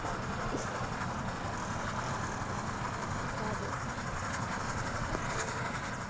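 A train rolls along the rails in the Dead Rails video game, a continuous, even rumble with a faint clatter that holds at a constant level throughout.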